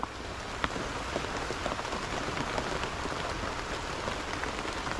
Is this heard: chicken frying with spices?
no